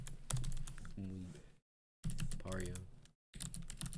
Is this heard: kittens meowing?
no